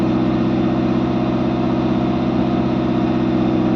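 A Morris car engine idles steadily in freezing snow after sitting a week under a cover, a continuous loud rumbling drone with an even low pulse, running on choke with no voices.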